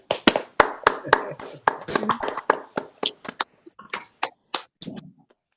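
An audience at an annual general meeting applauds, a burst of clapping with sharp hand strikes that thins out and fades to a few final claps.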